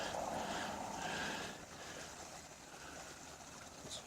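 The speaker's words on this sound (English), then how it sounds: "making a bit of a ridge for the water to flow over" Water flowing over a rocky ridge at a waterfall on the Hakarimata Summit Track, a soft, continuous rushing hiss heard from a distance, slightly louder at first then settling steady, with no talk.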